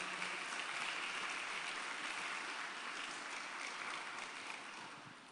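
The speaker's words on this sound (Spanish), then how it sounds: "Denle un aplauso al Señor" Faint, steady applause from a church congregation, a continuous wash of clapping that softens gradually toward the end.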